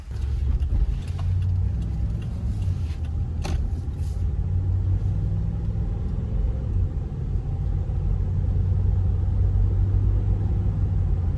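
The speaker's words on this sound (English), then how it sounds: "I think we're gonna take it for a test drive." A Ford vehicle that had been misfiring in higher gears is out on a test drive, giving a steady, loud engine and road rumble that holds throughout, with a few brief higher noises near the start.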